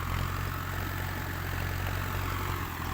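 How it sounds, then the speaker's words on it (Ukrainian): A tractor engine hums steadily at a distance while sowing soybeans in a farm field, a continuous low drone with faint wind and no talk. "Купили собі трактора і сіють."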